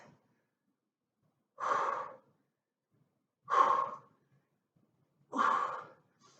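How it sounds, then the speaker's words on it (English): An exerciser lifting weights during a workout breathes out forcefully three times at an even pace, each exhale a short, close, breathy rush separated by silence. "Breathing out as those weights go up."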